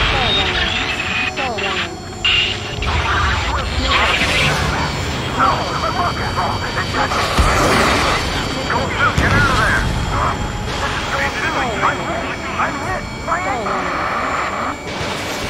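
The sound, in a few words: fighter jet aircraft in video game Ace Combat 7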